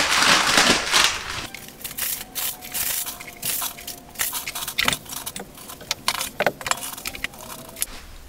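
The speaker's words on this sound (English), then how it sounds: "Okay, I got it loaded up here with all this paper and wood." Paper and split firewood are loaded into a wood-fired Nippa sauna stove with a water tank, a run of close crinkles, knocks and clunks as pieces are stacked inside, with a rushing hiss at the start.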